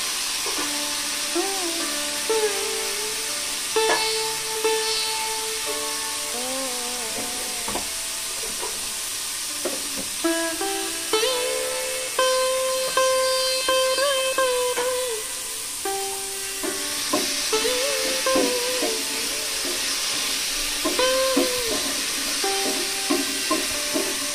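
Potatoes frying and being stirred in a pan for a fasting-day shama rice dish, a steady sizzle and hiss with scraping stirs, while a voice talks over it throughout.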